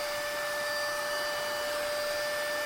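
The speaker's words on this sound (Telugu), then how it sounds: "మొత్తం డస్ట్ పార్టికల్స్ అన్నీ సక్ చేస్తుంది" A FYA wireless handheld vacuum cleaner with a brush nozzle runs steadily and close by while cleaning dust in a car, giving a continuous loud whine with a high motor tone.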